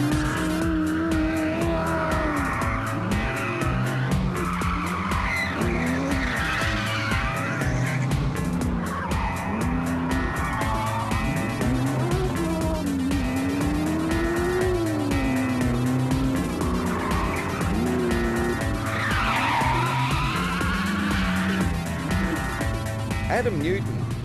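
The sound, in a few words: 1965 Ford Mustang drifting with tires skidding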